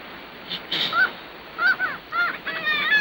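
Geese honk in several loud, nasal calls, some single and some in quick clusters, heard close with no talking over them.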